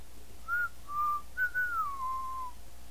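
A person whistles a short jingle, a few clear notes with a sliding descending phrase at the end, solo over faint background hum.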